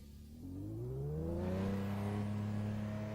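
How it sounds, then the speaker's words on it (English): A Toyota Supra Mark IV in Assetto Corsa pulls away at Virginia International Raceway, its engine note rising steadily as it revs up through the gear, loud and continuous with no voices. "I'm in the first car of the day now, which is a Toyota Supra Mark IV"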